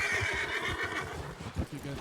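A horse in a video game whinnies loudly and close, with a rising and falling neigh, while hooves clop underneath and people talk briefly.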